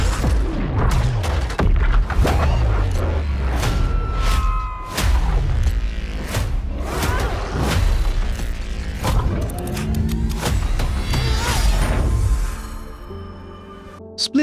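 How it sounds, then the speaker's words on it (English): Repeated booming game explosions and bursts of gunfire crash over rumbling mechanical noise, dense and loud throughout with no talking. "We sure cause a lot of explosions."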